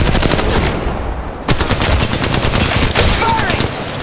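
Gunfire in Apex Legends Mobile, loud rapid automatic bursts of close shots firing in a steady stutter throughout, with a brief dip before a sharp renewed volley, and a voice calling out over the shooting.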